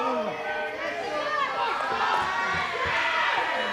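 Crowd in the RCW Wrestling Revolution video game jeering and shouting at a wrestler, a steady dense roar of many voices with rising and falling cries throughout, loud and continuous.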